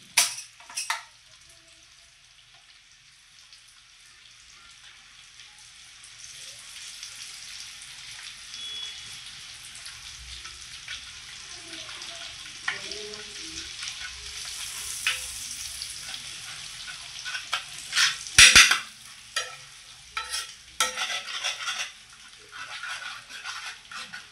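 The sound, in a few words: egg balls frying and being stirred in a pan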